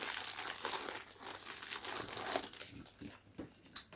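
Close crinkling and rustling of the plastic wrapping on a model kit being handled, irregular bursts of crackle throughout.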